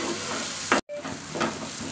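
Spice masala with coriander powder fries in a pan over a medium-low flame, a dense close sizzle broken by scraping stirs, with one brief dropout to near silence.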